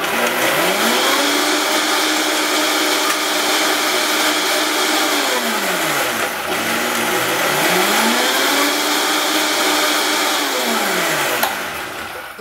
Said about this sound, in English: so just let me grind this up, pardon the noise